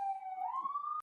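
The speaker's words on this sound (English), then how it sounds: "There are my New York City sirens." A New York City street siren wails faintly from a distance, a single rising tone that sweeps upward and then cuts off.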